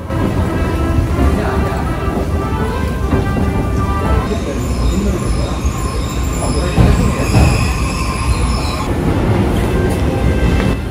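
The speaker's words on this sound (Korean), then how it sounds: "춘천 가는 ITX 청춘열차입니다" An ITX-Cheongchun passenger train bound for Chuncheon runs steadily with a loud continuous rumble and rail noise, high squealing tones from the wheels, and faint talk in the background.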